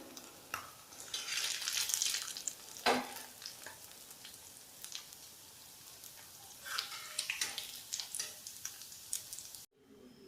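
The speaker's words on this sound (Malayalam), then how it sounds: "ഇപ്പം നമ്മൾ നെയ്മീൻ ഫ്രൈ ആയി വന്നിട്ടുണ്ട്." Kingfish (neymeen) pieces frying in hot oil for a crispy Kerala-style fry, giving a steady close sizzle with bubbling crackle and occasional sharp ticks of the pan being stirred or handled, with no voices.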